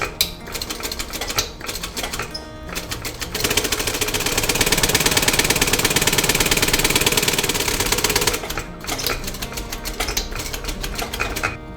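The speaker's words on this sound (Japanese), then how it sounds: "それでは先ほど貼りましたところを、この字にミシンを使って縫っていきます。" A sewing machine stitches a leather round-zip long wallet, a fast, steady mechanical run of needle strokes lasting several seconds. Quieter workshop sounds come before and after it.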